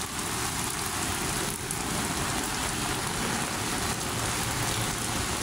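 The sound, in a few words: heavy rain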